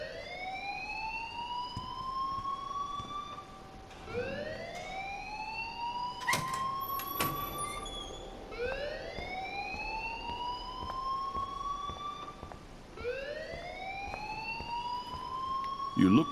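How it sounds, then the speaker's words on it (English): An alarm blares in Life is Strange with a rising, siren-like wail that sweeps upward about every four seconds, loud and continuous, with faint talk beneath it. "please turn off that alarm since that's your job"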